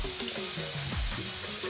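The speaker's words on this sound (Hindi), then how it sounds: "अब कढ़ाई में जाए चालू हमार प्याज के भजिया" Onion bhajiya frying in a kadhai, giving a steady, even sizzle of hot oil with faint tonal hum in the background and no voices.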